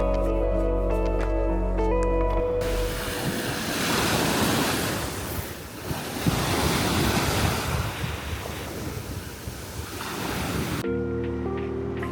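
Waves breaking on a beach in Albania, a loud continuous wash of surf with heavy wind buffeting the microphone, no speech.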